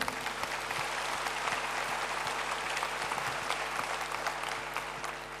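Audience applause at a French political meeting, steady dense clapping throughout, fairly distant and even in level, with faint low hum beneath and no talk over it.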